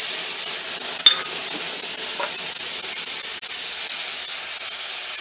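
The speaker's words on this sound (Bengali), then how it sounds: "ওর মধ্যে আমি জল দিয়ে দেবো।" Water poured into a hot pan of fish and fenugreek leaves sets off a steady, loud sizzling hiss that runs throughout, with a brief clink of a utensil near the start.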